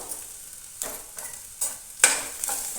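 Onions with turmeric, peanuts and curry leaves frying in a pan give a steady soft sizzle, broken by several distinct scraping stirs of a spoon, close up and alone.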